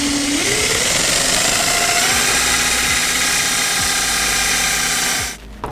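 A power drill whines loudly and steadily as it bores through a metal template, its pitch rising slightly, then cuts off abruptly near the end.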